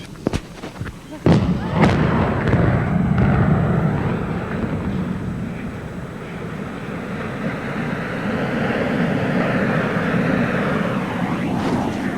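Half a ton of dynamite brings down the Met Center arena in a 1994 implosion: a sharp burst of blasts at the start, then a long loud rumbling roar of collapse that carries on under a crowd and voices talking.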